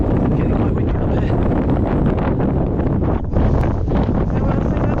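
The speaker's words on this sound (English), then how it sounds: "Getting quite windy up here." Strong wind across open Dartmoor moorland, loud buffeting gusts battering the microphone nonstop, with a brief lull near the middle.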